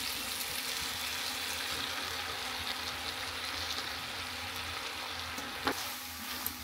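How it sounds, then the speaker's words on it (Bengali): Bottle gourd greens and boiled potatoes sautéing in a pan give a steady, close sizzle with a soft hiss, broken by a couple of faint scraping stir clicks near the end; no talking. "এই যে শাকের সাথে আলুটা সুন্দরভাবে কষিয়ে নিয়েছি"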